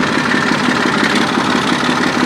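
Tractor engine running at a steady idle-like rumble, loud and continuous with a dense vibrating drone and no speech over it.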